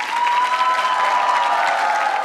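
An audience claps steadily on a Hindi TV debate stage to welcome speakers, a dense, loud, even wash of applause lasting the full clip with no voices.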